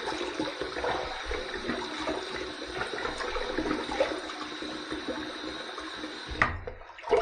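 Water runs steadily from a bathroom sink tap for wetting the face before a shave, a soft continuous splashing hiss close by that cuts off near the end.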